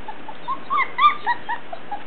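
Soft, high-pitched whimpers and squeaks from 20-day-old puppies, several short cries spread across a quiet moment, close by and faint.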